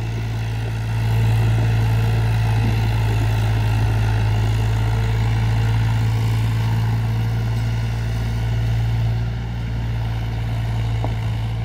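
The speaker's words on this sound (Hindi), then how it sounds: "काफी प्रयास के बाद ट्रैक्टर आखिरकार चढ़ ही गई" Powertrac 42 tractor straining uphill under a load of 2000 bricks, a steady deep engine drone with a low hum, holding constant and fairly loud throughout.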